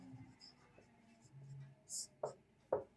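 Pen strokes scratching on paper as a math definition is written out by hand, a few short, distinct scrapes near the end with quiet speech and soft handling sounds earlier.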